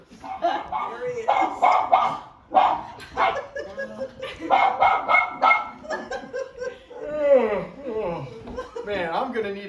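A small six-pound dog yaps in quick, excited bursts across the whole stretch, mixed with people talking and light chuckling at a birthday gathering.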